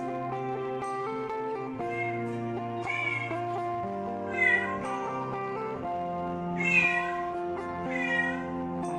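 A cat meows repeatedly, drawn-out and insistent, close by at feeding time, with a busy tonal background running underneath throughout.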